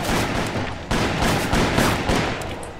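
Gunfire in the PC game Call of Juarez, a dense, loud barrage of overlapping shots that blur into one continuous roar across the whole moment.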